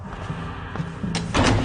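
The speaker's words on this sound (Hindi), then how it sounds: "दरवाजा बंद करो।" A door swings shut in a Hindi-dubbed Monkey King animated episode, a brief scrape followed by a closing thud near the end, heard over a low background hum.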